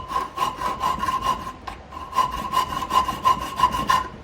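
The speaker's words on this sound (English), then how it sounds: "So I just file a little bit and I check it, and I file a little bit and I check it." A hand file rasps back and forth across a scrap steel dagger blade, steady rhythmic strokes with a brief pause midway, close and fairly loud, no talking.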